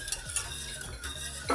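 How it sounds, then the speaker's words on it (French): A utensil stirs cubes of butter into a lemon mixture in a pan over low heat, giving soft repeated scraping strokes with a faint sizzle, quiet and close, with no voices. "On incorpore les petits carrés de beurre tout en mélangeant."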